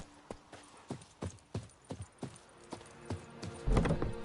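Roach, the horse in The Witcher 3, gallops with regular, fairly close hoofbeats on the ground, then a heavier thump near the end.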